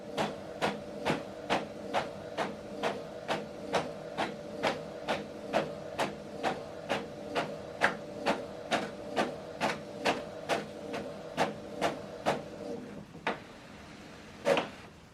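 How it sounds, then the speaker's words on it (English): An Epson ET-5150 inkjet printer printing a document, giving a steady, evenly spaced series of sharp mechanical clacks over a low motor hum, close by, before slowing to a few final clicks. "It's now printing the document."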